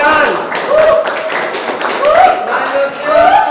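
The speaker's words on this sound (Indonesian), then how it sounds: "Tepuk tangan." A classroom group claps in a short burst of scattered, uneven hand claps lasting a few seconds, with voices talking over the clapping.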